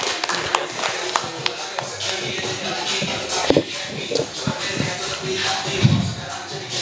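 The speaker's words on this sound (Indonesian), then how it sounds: "boleh tepuk tangan buat Togik" A comedy-show audience claps for a performer, a dense patter of hand claps with scattered louder slaps and shuffling, moderately near and steady for several seconds.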